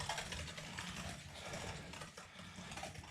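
A vintage hand crank sausage grinder churns deer meat, giving a faint, steady mechanical grinding and clicking of turning gears with a continuous uneven rasp and no voices.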